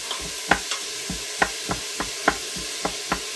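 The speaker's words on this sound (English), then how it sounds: "We're just going to saute this a little bit, just to get this going." Ingredients for split pea and ham soup sautéing in a pot, heard as a soft, steady sizzle with repeated rhythmic scrapes and taps of a stirring utensil, and no talk.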